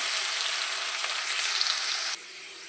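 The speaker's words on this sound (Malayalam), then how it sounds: "ഇഞ്ചി വെളുത്തുള്ളി കളച്ചിട്ട് കൊടുക്കാം" Ginger and garlic sizzle steadily in hot oil in a pan after fennel seeds, a close, even hiss that drops slightly in level near the end.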